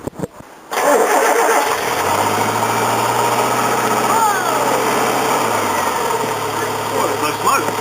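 A Suzuki Vitara engine cranks and fires after new valve guide seals are fitted with the cylinder head left in place. It settles into a loud, steady idle close by.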